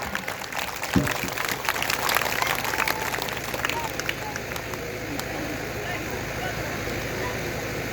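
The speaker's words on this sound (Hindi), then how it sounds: "चलिए दीदी के लिए जोरदार ताली हो जाएगा" A crowd at a Hindi devotional recitation claps in a fairly faint, dense wash that swells early, then settles into a steady patter beneath murmuring voices.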